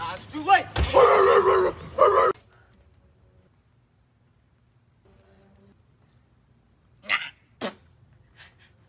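A dog outside a house barks a couple of short, sharp times near the end, after a loud burst of vocal noise at the start and a long quiet gap.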